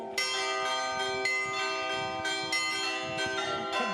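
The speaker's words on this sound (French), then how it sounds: "4 grosses cloches sur un premier niveau, et puis il y en a 8" Several carillon bells of a church in Hombleux, France ring together in overlapping strikes, rich sustained tones with new strokes every second or so, loud and resonant.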